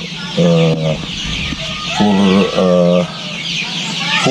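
Loud, close clucking from Arab breed chickens in several bursts, with overlapping calls from a few birds and a busy background hiss.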